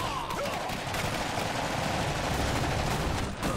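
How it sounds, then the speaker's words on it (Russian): Sustained automatic gunfire from machine guns in the real-time strategy game Iron Harvest, a dense, continuous rattle of rapid bursts mixed with explosions and battle noise, loud and unbroken for the whole stretch. "Пулеметчики сейчас убьют их нахрен."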